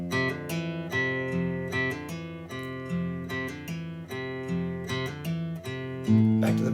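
A guitar riff, picked once and then hammered on over open strings, with smooth, ringing notes that flow in a steady, continuous line, played alone with no talking.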